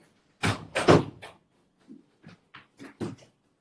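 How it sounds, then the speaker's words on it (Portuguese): A door being shut indoors, with a couple of close knocking thumps followed by several lighter taps and clicks, loud and near against an otherwise quiet room. "Deixa eu só fechar uma porta aqui que está fazendo muito barulho."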